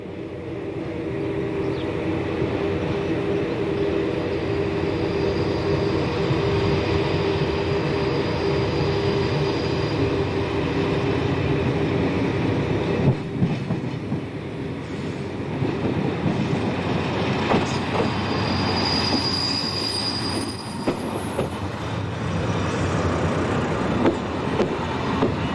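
An SNCF Class X4500 diesel railcar rolls into a bay platform, its engine droning steadily with rail clatter throughout, a brief squeal of brakes near the end as it slows.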